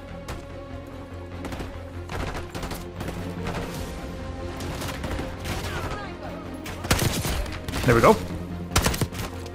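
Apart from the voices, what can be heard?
gunfire in the video game Call of Duty Black Ops 6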